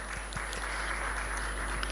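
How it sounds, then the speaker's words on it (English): An audience at a business event on export and import applauds a new sponsor with a brief, moderately loud round of clapping, individual claps audible over a low steady hum. "A round of applause for you as well."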